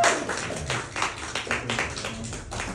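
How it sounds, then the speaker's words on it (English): Scattered clapping from a small audience at a live poetry reading in Toronto, a few uneven bursts of hand claps rising and falling over a short stretch, fairly close and moderately quiet. "Let's get some applause. We haven't had any applause."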